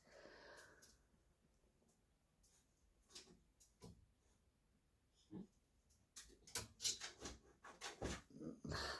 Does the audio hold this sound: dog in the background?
yes